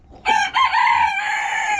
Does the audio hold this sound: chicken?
yes